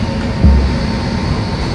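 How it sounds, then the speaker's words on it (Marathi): An Indian Railways train rolls past at close range, a loud, continuous rumble of wheels and carriages with a brief swell partway through. "हे बघा मित्रांनो ट्रेन आली पुन्हा एकदा भारतीय रेल"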